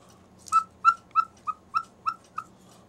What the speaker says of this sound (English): All this is a little bag, and the bag is pushing air through the whistle.